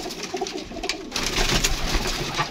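Pigeons coo softly and repeatedly nearby, layered with rustling and a busier burst of fluttering and bird noise halfway through.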